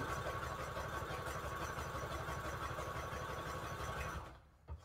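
A sewing machine stitches with baby blue thread in the bobbin, running at a steady, rapid mechanical rhythm for several seconds before stopping abruptly near the end.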